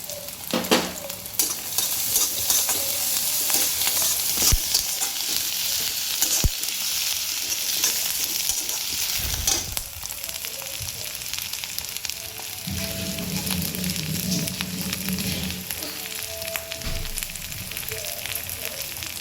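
Curry leaves sizzling in hot oil in a pan for a tomato chutney: a loud, steady crackling hiss lasting throughout, close by, with occasional stirring knocks.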